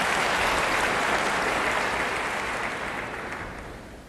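Audience applause after a public talk in Washington D.C., a dense, steady clapping from a hall full of people that fades gradually toward the end.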